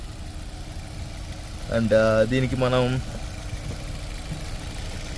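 A 1.2-litre petrol car engine idles with a steady low rumble during a decarbonization service, while someone speaks briefly over it near the middle.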